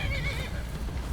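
A horse in the Skyrim video game gives a brief, wavering whinny at moderate volume that fades quickly, with no talking.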